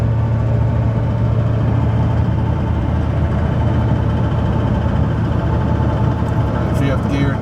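A Duramax diesel pickup engine drones steadily under load while towing a gooseneck trailer of about 20,000 lbs on hilly road in fifth gear with the converter locked, a constant low rumble with cab noise.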